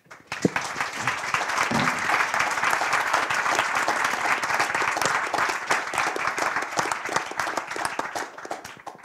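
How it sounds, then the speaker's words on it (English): An audience at an evening design talk about pavilions claps steadily and loudly for about nine seconds, a dense close wash of hand claps with no speech over it. "So huge round of applause for that effort."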